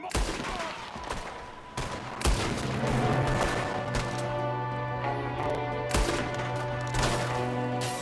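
Gunfire in Red Dead Redemption 2, a western setting: loud sharp shots crack out irregularly, several in quick succession, over a sustained musical drone and background game sounds.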